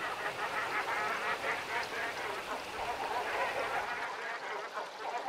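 A large flock of cormorants feeds in the Volga Delta, Russia, filling the air with continuous dense honking, croaking calls and splashing at a steady moderate distance, slightly quieter toward the end.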